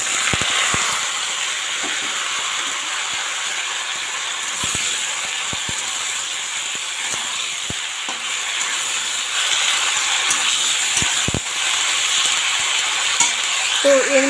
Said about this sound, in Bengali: এখন আমি এখানে সমস্ত সবজিটা দিয়ে দেব।